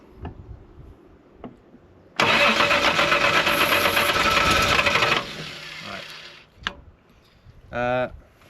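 Reliant Scimitar GTE engine cranked and briefly running after timing work, a loud rough roar for about three seconds that then dies away, followed by scattered clunks and a short buzzing whir.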